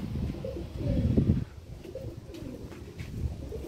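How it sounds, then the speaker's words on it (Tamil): Pigeon cooing inside a loft, soft repeated low coos with a fuller burst near the start, moderately close amid quiet rustling. "நம்ம லாஃப்டில் வந்து ஒரு புறா வந்திருக்கு."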